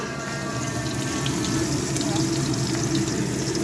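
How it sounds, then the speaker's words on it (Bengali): Fish frying in oil in a home kitchen pan, giving a dense, continuous hiss that stays steady and close throughout, with no voices. "এই যে মাছ ভাজছি।"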